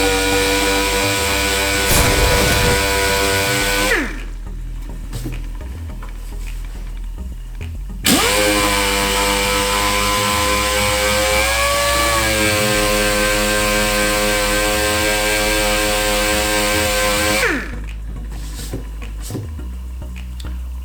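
A power sander works 220 grit over a Kawasaki KXT250 three-wheeler gas tank, a loud buzzing whine that runs, cuts out twice for a few seconds, and starts again, with the pitch shifting slightly under load.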